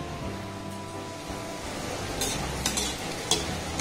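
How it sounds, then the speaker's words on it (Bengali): Small sweet dough balls frying in hot oil over a low to medium gas flame, a steady close sizzle with a few brief clicks near the end. "গ্যাসের ফ্লেমটাকে একদম লো টু হালকা মিডিয়াম দিয়ে এগুলোকে কিন্তু ভেজে নিতে হবে।"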